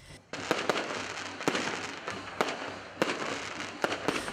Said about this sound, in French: Ce sont les feux d'artifice qui ont éclairé la route, tirés depuis le couvent franciscain à la fin d'une soirée de fête.